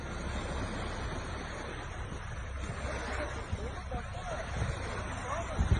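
Rushing tsunami water surges toward the shoreline in Izmir, a constant loud roar of churning water and wind buffeting the microphone, with excited voices talking over it.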